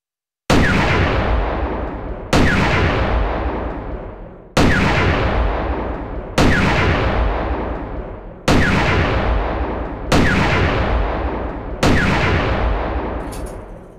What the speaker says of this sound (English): Gun number 1, fire.